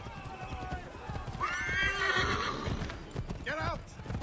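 A horse in the Assassin's Creed 3 video game gallops with rapid clip-clop hoofbeats and lets out two loud whinnies, one long and one shorter, while a person talks over it.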